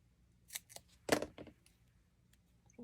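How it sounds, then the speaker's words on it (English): A small square of foam tape is snipped off with scissors, a few short, crisp close cuts with quiet pauses between them. "We'll cut a little square of foam tape off."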